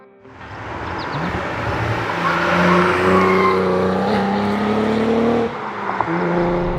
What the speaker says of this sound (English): Dave Vanderwerf, quoted saying, "There's nothing much better starting the day than a no lift shift in the CT4."